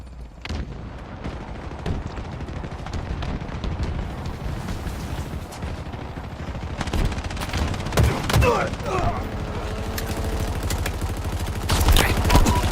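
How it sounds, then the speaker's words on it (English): Rapid bandit rifle gunfire in Halo Infinite, with dense bursts of game shots, booms and effects layered over continuous game audio, loud and close, with a heavier flurry near the end. "let me try using this bandit rifle more."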